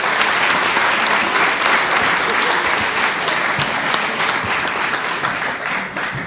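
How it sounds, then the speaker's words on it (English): Loud crowd applause at a university hypnotist comedy show, continuous clapping that stays strong and eases slightly toward the end. "Give these folks a big round of applause."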